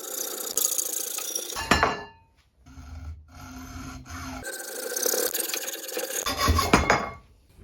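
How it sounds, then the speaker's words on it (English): Holes are cut into a wooden wardrobe panel with rasping, grinding bursts of the tool biting into wood. One short pass comes first, then a quieter stretch and a brief pause before a longer, louder pass, all close by. "Now I'm just cutting the holes on which the clothes will actually hang"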